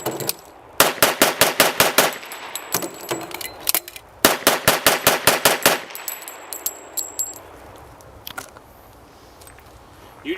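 A 102-year-old design pistol fired rapidly in a timed 1912-style test, two loud close bursts of evenly spaced sharp shots separated by a short pause, followed by fading echoes and a few scattered clicks.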